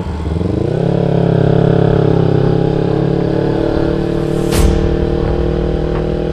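A motorcycle engine rises in pitch and then holds a loud, steady drone during a chase after motorcycle thieves in Kertapati, Palembang, heard close up.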